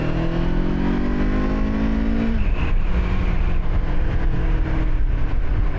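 A 2024 Kawasaki Eliminator 500 motorcycle launches hard, its engine note climbing steeply through the revs, then cuts to a gear change and carries on with a rough, loud drone and rushing wind noise.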